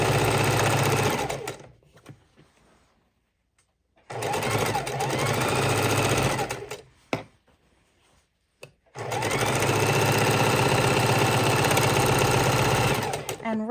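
A sewing machine stitches a four-patch baby quilt in loud, fast whirring runs, stopping for pauses of near silence between bursts, with a brief voice and small clicks during a break.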